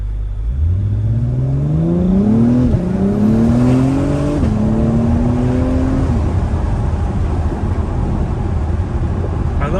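A 2021 Acura Type S accelerates on a night drive, its engine and turbo whine rising in pitch through two gear changes, then settling into a loud, steady cruising drone.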